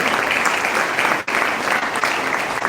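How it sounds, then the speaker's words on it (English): An audience at a school honor-roll ceremony gives a big round of applause, a loud continuous patter of many hands with one brief dip midway before it swells again. "Please give a big round of applause."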